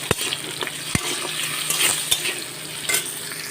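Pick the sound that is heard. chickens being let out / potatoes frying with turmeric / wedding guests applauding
potatoes frying with turmeric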